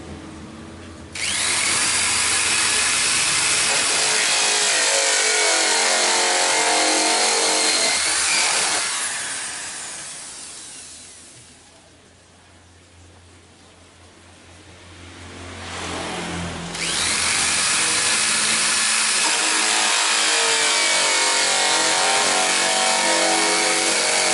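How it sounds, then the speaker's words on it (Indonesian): Power drill boring holes in PVC pipes for a hydroponic rack, whining loud and steady close by, dropping off for a few seconds midway and then starting again, with no talking. "Pipa yang sudah selesai saya lubangi ini sebanyak 6 buah pipa"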